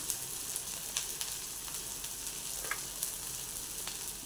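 Ground masala paste frying in a pan for a spicy chickpea masala, a soft, steady sizzle with a few light spoon clicks and scrapes scattered through it, close and quiet with no voices.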